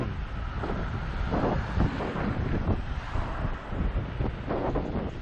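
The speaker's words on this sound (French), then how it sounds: "avec un vent plutôt défavorable." Strong headwind roars and buffets a microphone continuously while cycling at about 27 km/h, a loud rushing gust noise with no clear voices over it.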